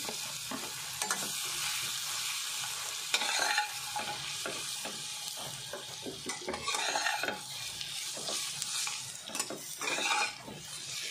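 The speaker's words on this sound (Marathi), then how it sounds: "काळी खजूर पण आपल्याला अशी परतून घ्यायची आहे थोडीशी" Black dates sauté in a pan with steady sizzling and repeated spoon strokes scraping and clinking against the metal, up close and continuous for several seconds.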